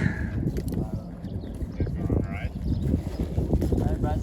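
Horse hooves clop on a farm ride, a fairly steady rhythm of close footfalls running through the clip beneath people talking.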